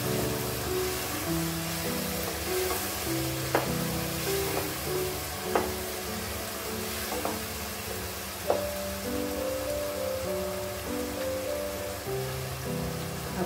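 A spiced bread mixture is sautéed in a pan: a soft, steady sizzle with a few sharp spoon clicks against the metal, all under light background music.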